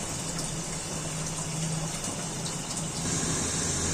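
Water from washing beef is poured off in a steady, dense gush that runs on continuously for several seconds, close and fairly loud, with no voices.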